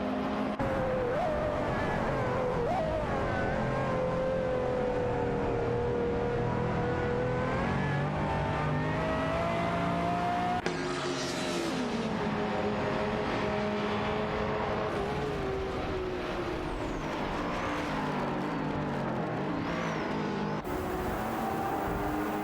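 Race cars in an AI-driven racing video game roar continuously with shifting engine pitch, revving and passing, loud and steady throughout with no talk.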